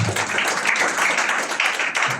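A church audience at a sermon on the resurrection applauds in a dense, continuous patter of many hands, close and fairly loud with no voices over it.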